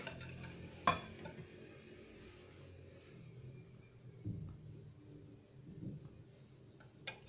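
A spoon stirs quiche filling of grated zucchini, salt, pepper and red cheese in a bowl: soft, quiet scraping and swirling strokes with a few light knocks against the bowl.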